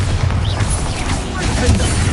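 A spell explosion from a Harry Potter video game: a dense, rumbling boom with heavy low-end roar that holds steady for about two seconds, loud and close, with a voice partly mixed in.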